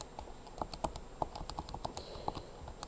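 Rapid, irregular key presses on a calculator as a math expression is entered, a dozen or so crisp close clicks with no talking.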